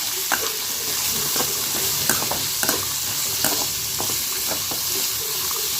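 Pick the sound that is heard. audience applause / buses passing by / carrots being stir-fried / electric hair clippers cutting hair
carrots being stir-fried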